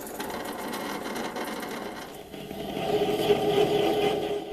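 A metal lathe cuts a 0.8 mm pitch thread with a 60-degree tool on a small lighter part, giving a steady mechanical whirring hum that grows slightly louder and busier partway through, with no talk.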